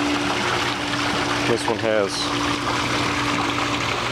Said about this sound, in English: I wanted you to see the fountains running as well.